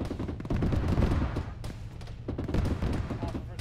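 Close, loud bursts of gunfire fill a military video game firefight in ShackTac, with repeated rapid shots and dense crackling volleys throughout.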